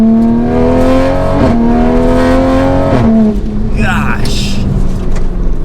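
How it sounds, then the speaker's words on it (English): A 600 WHP wide-body Toyota Supra accelerates hard from inside the cabin, its loud engine note climbing through rising pitch sweeps with brief breaks at gear changes, then settling as a person exclaims over it. "That is like high-end performance acceleration you get out of this."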